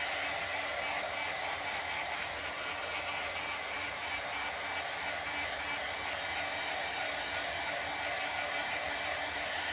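A hair dryer runs steadily at close range, drying a freshly applied craft transfer with a continuous loud whooshing roar that holds without a break from start to finish.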